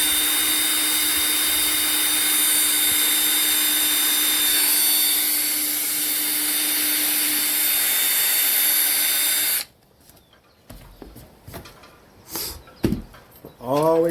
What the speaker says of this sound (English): So we're gonna drill the holes out.